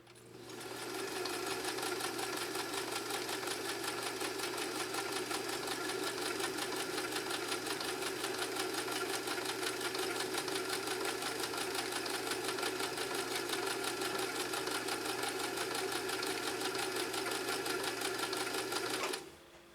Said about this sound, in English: I'll pause the music real quick so you can listen to the machine run